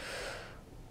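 One deep breath taken during a guided mindfulness exercise, a close, audible inhale that rises quickly and then tapers off into quiet.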